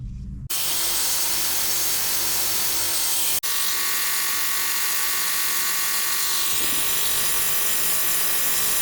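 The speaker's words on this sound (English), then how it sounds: "a little bit of sanding and polishing" A continuous, even rasping rub of hand sanding on a wooden knife handle runs almost the whole time, close and loud, with a short tap partway through.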